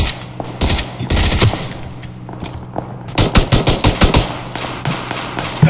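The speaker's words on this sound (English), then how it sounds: "Who the hell is shooting?" Gunfire in the PUBG video game, close and loud, heard as scattered single shots early on, then a rapid burst of repeated shots near the end with no talking.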